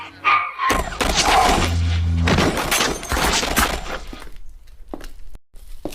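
Gunfire in a zombie film, a burst of rapid loud shots and impacts with crashing debris, dense for several seconds before thinning into scattered bangs and silence.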